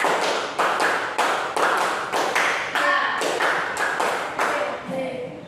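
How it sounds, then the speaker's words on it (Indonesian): Elementary school pupils standing in their classroom clap out a counted rhythm pattern, about ten sharp, crisp claps in quick groups, close and loud, with no talking over them. "Tepuk satu dua tiga."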